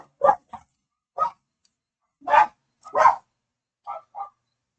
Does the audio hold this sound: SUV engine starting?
no